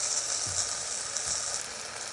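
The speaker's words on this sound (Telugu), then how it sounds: "ఇప్పుడు ఈ వంకాయలు కూడా వేసేద్దామండి, బాగా వేయించుకుందాం." Eggplant pieces sizzling in a pan of hot oil while cooking an okra curry, a steady broad hiss with a couple of soft low knocks as pieces are stirred or added.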